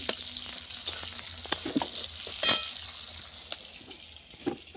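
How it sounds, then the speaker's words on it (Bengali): Chopped onions fry in oil in a pan on a clay stove, giving a steady soft sizzle with scattered stirring scrapes and a louder clatter midway, no voices. "পেঁয়াজটা একটু ভেজে নেবো"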